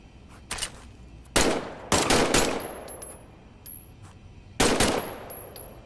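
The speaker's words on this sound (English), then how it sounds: "why don't you test fire your weapon?" Test firing a weapon in the Medal of Honor video game, a few loud close bursts of gunfire separated by short pauses, with thin high electronic tones in between.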